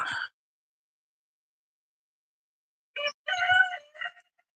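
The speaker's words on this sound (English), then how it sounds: "I wish the roosters would be quiet so you could hear the meadowlarks." A rooster crows near the start, then after a silent pause another crow-like call rises in a couple of bursts, moderately close and clear.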